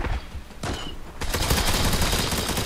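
Gunfire in the online shooter game Zula, starting with a short burst, then a brief pause, then sustained rapid automatic fire that is loud and close, with no talk.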